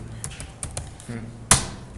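Several sharp, scattered taps like keys being struck, irregular and close, with one louder clack near the end; faint voices murmur underneath.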